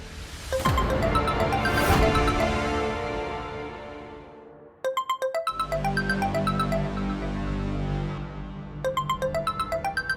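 A mobile phone left behind by a village sarpanch rings with a loud, melodic ringtone, playing a tonal musical phrase, pausing briefly, then repeating with pulsing chime notes, no voices heard.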